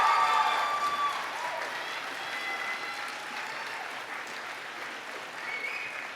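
Standing graduates at a fall university convocation applaud their families, friends and staff: a steady wash of mid-distance clapping that slowly thins and softens.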